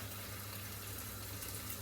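Water pours steadily into a pot of stew, a continuous faint gushing fill heard close up with a low hum beneath it.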